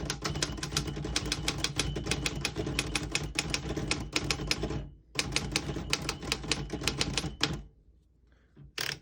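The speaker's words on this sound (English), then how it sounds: "I'll type a sentence in red on the next line" Keys on a 1937 Royal KMM vintage desktop typewriter clack in a fast, steady run of crisp strikes, with a short pause midway, then more typing and a final lone strike.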